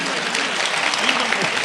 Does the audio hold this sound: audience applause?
yes